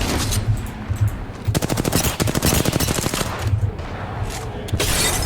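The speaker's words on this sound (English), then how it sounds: "Signaling an airstrike." A video game airstrike in Apex Legends: rapid bursts of gunfire-like impacts rattle in a fast, dense volley through the middle, with heavier thuds and blasts before and after, loud and close, with no speech.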